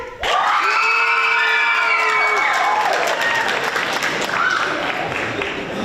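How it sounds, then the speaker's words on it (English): A live audience at a Media Arts Center tenth-anniversary celebration erupts in loud cheering, whoops and clapping that rise suddenly and hold steady at full volume throughout. "So we want everyone to cheer and clap when we announce your publication."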